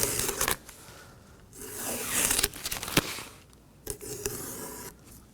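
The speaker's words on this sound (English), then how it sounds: "now we're ready to remove the tape" Protective tape is peeled off new mirror glass on a 2016-2020 Kia Sorento, close rasping tearing strips in several pulls with short pauses and crinkling handling between them.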